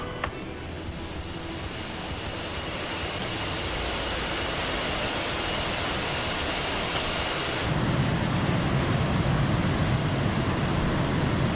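A taxiing aircraft's engine drones in a steady, loud whine that holds throughout and grows slightly heavier and lower partway through, with no talk over it.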